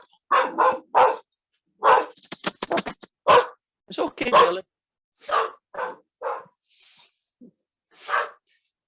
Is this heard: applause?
no